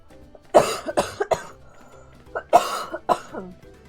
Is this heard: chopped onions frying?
no